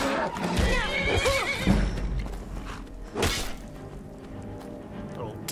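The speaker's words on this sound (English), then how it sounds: "Oh god, that horse is attacking me." A horse in the Skyrim video game neighs loudly with a shrill whinny while attacking, among heavy thuds and clattering hoof and combat impacts, with someone talking.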